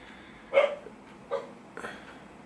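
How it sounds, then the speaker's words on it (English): Three short barks from a dog, spaced under a second apart, moderately close over a steady background hiss. "The dog barking or something."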